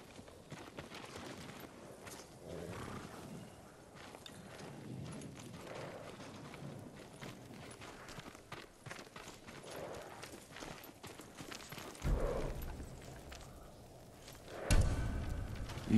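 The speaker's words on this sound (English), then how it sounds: "They're samurai horses." Samurai horses in Ghost of Tsushima plod along with soft, irregular hoof clops and shuffling steps over a low ambient bed, with a louder thump and swell toward the end.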